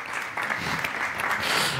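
Applause follows a poetry reading at a poetry-themed café des lecteurs, a brief, steady wash of clapping from a small audience, close and even.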